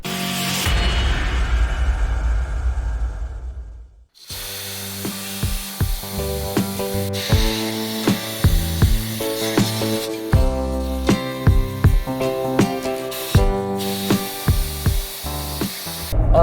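Air hisses loudly and steadily from a Jeep's tires as they are aired down, a rushing spray lasting about four seconds before it cuts off and music takes over.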